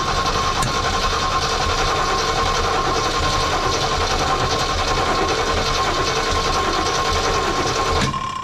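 A Jeep CJ-5 pulled from years of storage cranks steadily on its starter, a loud, continuous churning drone with a fast mechanical rhythm that holds for about eight seconds before cutting off abruptly.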